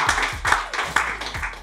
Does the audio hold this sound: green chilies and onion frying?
no